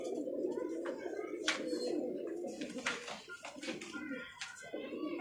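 Rampuri pigeons coo in a low, steady, rolling murmur close by, while someone talks over them throughout.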